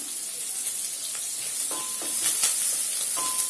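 Curry leaves and onions sizzling in hot oil in a pan, a steady close hiss of frying with faint stirring taps, no voices.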